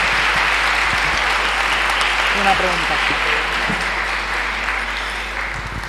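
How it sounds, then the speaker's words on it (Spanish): Audience applause fills the room at the closing of an adult and adolescent education conference, steady and dense throughout, with someone speaking briefly over it. "un aplauso para todos en este cierre"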